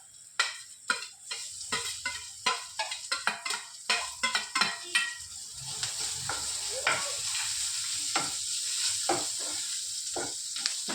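Chopped garlic frying in a pan for prawn chilli, a steady sizzle that builds and holds, broken by frequent sharp scrapes and taps of a spoon stirring against the pan, close and fairly quiet.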